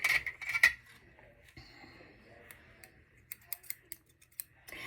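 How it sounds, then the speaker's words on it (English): Small scissors snip several times near the end, sharp crisp clicks in quick succession trimming loose threads, after a stretch of quiet handling noise. "I'm going to get my tiny little scissors, which I have right here."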